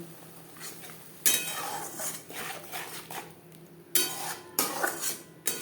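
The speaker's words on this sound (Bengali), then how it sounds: "লবণ হলুদ মশলার সাথে বেশ ভালো করে মিক্সড করে দেব" A spoon scrapes and clatters against a metal pan as spices are stirred with salt and turmeric for an egg omelette curry, in repeated close, loud strokes with a steady rhythm and no voices.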